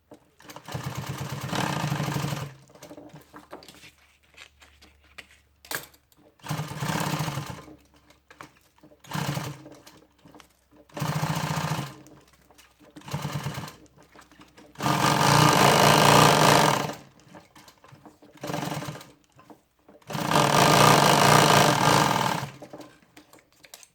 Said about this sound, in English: This one I'm going to go back and sew back over.